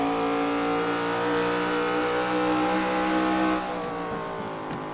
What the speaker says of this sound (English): I love the sound of those cars right now as they go down into the corner.